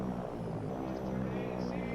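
A Betty bomber going down in the Silent Hunter submarine video game, a faint steady propeller-engine drone humming low and continuous in the background.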